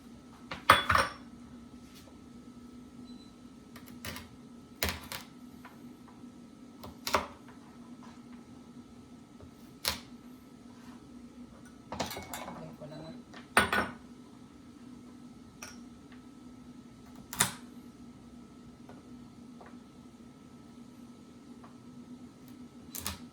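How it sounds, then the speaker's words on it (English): Knife chopping leftover grilled pork belly into smaller pieces on a board in a home kitchen, sparse sharp taps spaced a few seconds apart over a low steady hum, fairly quiet. "I'm just gonna chop this one in a little bit pieces because it's kind of huge"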